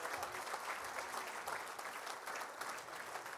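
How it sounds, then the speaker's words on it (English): A room full of guests at the 2022 AFLW Best and Fairest awards night claps steadily for the coach and the top three vote-getters, a continuous even patter of applause heard from a little distance. "So a round of applause again for the coach and for the top three in the best and fairest."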